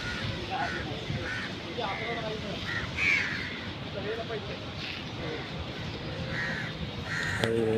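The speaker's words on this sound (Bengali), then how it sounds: "এই যে হকার আম নিয়ে আসছে, এখানে কাক এসে ভিড় করছে ওর সাথে" Many crows crowd around a mango hawker outdoors, cawing repeatedly in overlapping bursts over a constant crowd din, with a voice talking underneath.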